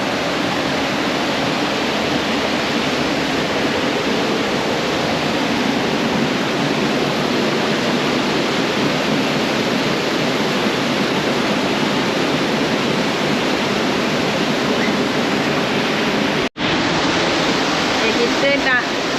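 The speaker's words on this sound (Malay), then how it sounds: "Air bukit mengalir lagi." Hill stream water rushing down from the hillside after rain, a steady loud broadband roar close by that continues nearly unbroken, with a brief cut near the end.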